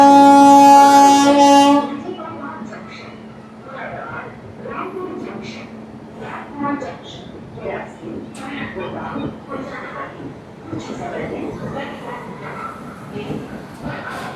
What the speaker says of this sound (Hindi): देखो सामने आ रही है हमारी नैनी दून जन शताब्दी एक्सप्रेस।